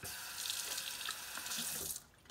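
Tap water runs steadily into a kitchen sink while a sink plug is rinsed, a close continuous splashing rush that cuts off abruptly near the end.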